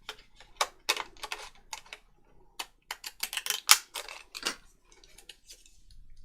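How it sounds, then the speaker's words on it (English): A manual typewriter clacks in irregular bursts of sharp keystrokes, close and crisp, with short pauses between words and no talking. "It's a typewriter, you don't get a choice of what size font you get."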